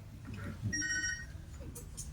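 A telephone rings in short electronic bursts for about half a second during a stage performance at a theatre festival, heard among voices and room noise.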